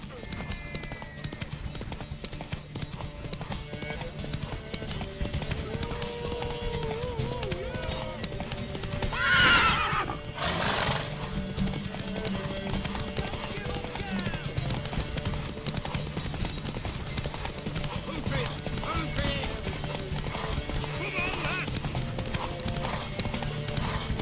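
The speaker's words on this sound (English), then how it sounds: "Want that horse, don't ya?" A horse's hooves clip-clop steadily in The Witcher 3, with a loud neigh near the middle, under game voices talking throughout.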